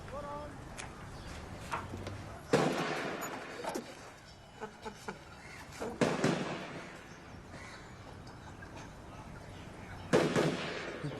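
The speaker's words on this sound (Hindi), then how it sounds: "फायरिंग रेंज है, रोज होता है बंदूक।" Gunfire from a nearby firing range arrives as three loud bursts of rapid cracks spaced several seconds apart, with people talking in between.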